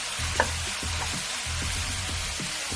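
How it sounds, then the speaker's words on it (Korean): Kimchi fried rice with oyster sauce being stir-fried in a pan, a constant sizzle broken by rhythmic scraping strokes of a spatula roughly every half second, close and alone without talk. "충분히 볶아줍니다"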